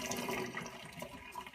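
Tap water running into a kitchen sink during cleaning, a faint, steady splashing stream with small fluctuations and no talking.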